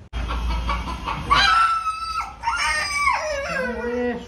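A chicken squawks loudly and close by, a string of harsh, wavering cries that rise and fall over a few seconds.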